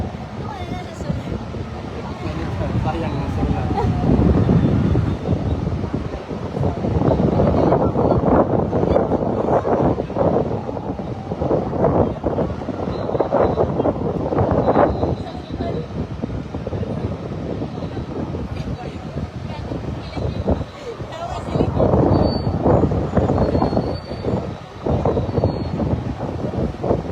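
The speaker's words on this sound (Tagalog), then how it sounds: "kusog ang hangin actually karon." Strong wind roars and buffets the microphone continuously, with a person talking under the gusty rush.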